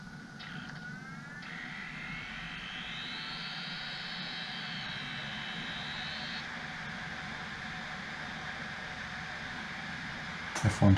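A Dell Latitude CPi laptop spins up with a steady whirring hum and a rising whine, a few clicks and a louder knock right at the end.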